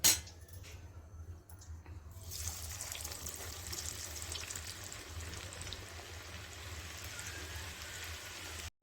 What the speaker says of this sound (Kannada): ಈಗ ಇನ್ನೊಂದು ಸಲ ನಾವು ಡೀಪ್ ಫ್ರೈ ಮಾಡಿ ತಗೊಳ್ಳೋಣ